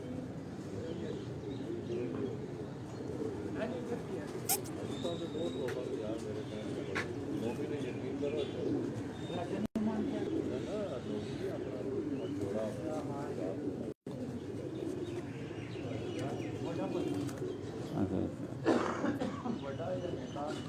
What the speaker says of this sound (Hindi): फ्रांसे कबूतर ने जी